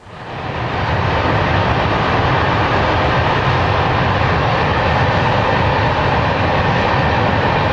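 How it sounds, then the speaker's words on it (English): A train passes close by, its heavy, steady rumble swelling in at the start and then holding loud and unbroken. "We were lucky enough to have a train crossing at the time."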